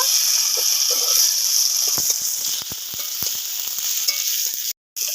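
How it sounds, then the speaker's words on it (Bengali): Potatoes frying in hot oil in a kadai, a steady broadband sizzle with scattered crackles and pops, loud and close, with a brief dropout near the end. "আলুগুলো ভালো করে ভেজে নেব।"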